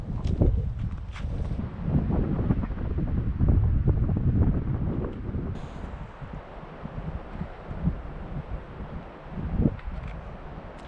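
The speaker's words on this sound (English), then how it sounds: "Pretty damn windy up here." Strong wind on a hike buffets the microphone in a continuous low rumble, with heavier gusts swelling and fading; no voices are heard.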